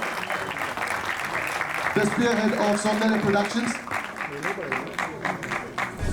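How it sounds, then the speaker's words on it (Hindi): An audience at a film trailer launch event applauds the film's producer, sustained clapping running under an amplified announcer's voice, with music swelling briefly in the middle. "विनोद बच्चन जी का जोरदार तालियों से स्वागत कीजिए।"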